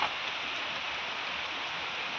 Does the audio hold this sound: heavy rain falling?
yes